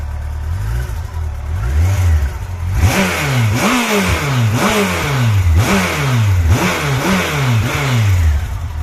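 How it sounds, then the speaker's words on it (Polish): A Yamaha FJR motorcycle engine fires up and revs repeatedly in a steady rhythm, each rev rising and falling, loud and close with no voices. "motocykl odpala od strzała"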